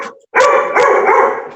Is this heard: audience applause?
no